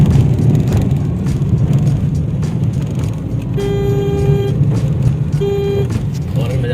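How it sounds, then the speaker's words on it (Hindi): A car climbs a steep hill road toward a temple in rural Rajasthan, its engine straining in a loud, constant low drone, while two short horn toots sound in the middle. A voice talks faintly under the engine. "देखते हैं हमारी गाड़ी चढ़ेगी या नहीं चढ़ेगी।"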